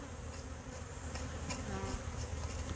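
Honey bees buzz around a hive, a soft continuous droning hum from many insects close by, steady throughout with a few individual bees passing.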